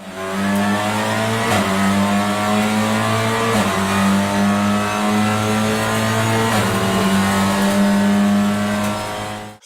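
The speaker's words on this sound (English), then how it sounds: "Number 10. Honda Civic Type R TCR." Honda Civic Type R TCR touring race car with a straight-cut sequential dog box, a loud close-up engine under hard acceleration with a pronounced gear whine, sharp clunks at each upshift roughly every two seconds, no talking.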